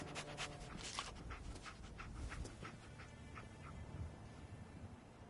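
A dog companion in the Fallout 4 video game pants and sniffs steadily, with quick breathy bursts repeating over a constant background hum throughout.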